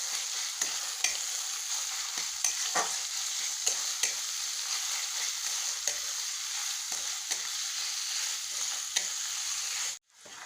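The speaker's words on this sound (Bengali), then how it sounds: "পেঁয়াজটা এখন ভালোভাবে ভাজতে হবে।" Chopped onions frying in a pan for a paneer masala curry, a continuous sizzle with scattered stirring scrapes and clicks throughout, close and steady, ending with a brief clunk.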